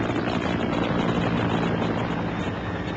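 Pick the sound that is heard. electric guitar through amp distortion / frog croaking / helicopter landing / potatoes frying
helicopter landing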